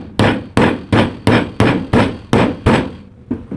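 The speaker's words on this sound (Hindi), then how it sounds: "चलिए मैं इसको अलग रख के और ठोक लेता हूँ।" A hammer pounds a bearing into a 1400 rpm exhaust fan, with eight sharp, evenly spaced metallic blows close by and a softer ninth hit at the end.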